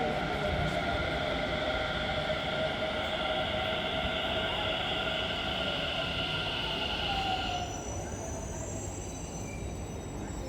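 Delhi metro train in motion heard from inside the carriage, a constant heavy rumble with sustained high-pitched wheel whine that drops away near the end.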